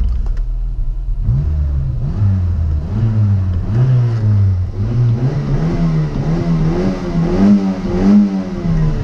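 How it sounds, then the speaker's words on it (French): A Renault Super 5 engine revs repeatedly, the pitch climbing and dropping in waves as it accelerates, loud and close throughout. "je vais quand même vous faire écouter le bruit du moteur"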